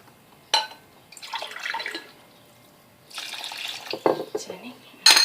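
Warm water poured from a glass into a bowl of pizza dough ingredients and oil, two short splashing pours with light clinks from the bowl; close, with a voice speaking in the background.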